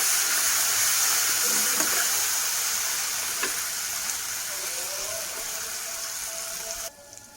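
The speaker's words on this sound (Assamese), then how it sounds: "আদা দি অকণমান এয়া এনেকৈ ভাজি ল'ম।" Chopped onion and ginger fry in hot oil in a pan with a steady, moderately loud sizzle that tapers off slightly before cutting out near the end.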